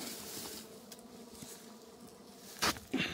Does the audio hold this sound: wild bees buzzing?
yes